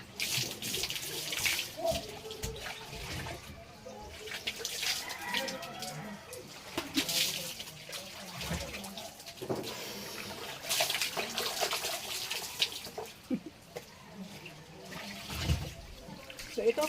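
Water running and splashing during a bath, a steady wash of flow broken by irregular sloshes and drips, fairly close, with faint bird calls in the background.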